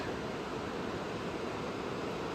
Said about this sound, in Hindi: नदी का पानी देखो यार